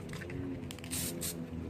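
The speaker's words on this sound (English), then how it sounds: "What I'll do is spray a little bit" Spray paint hisses from a can onto the wires of a GY6 scooter body panel in a couple of short, close bursts, quiet and without talk.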